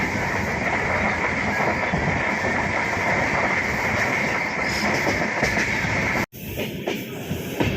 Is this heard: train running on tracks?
yes